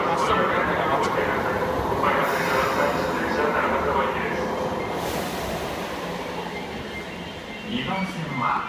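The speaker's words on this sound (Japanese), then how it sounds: "2番線の最終電車 になります" A Toei Asakusa Line subway train at the Shimbashi Station platform rumbles loudly and steadily with rolling wheel noise, while platform announcements and voices sound over it.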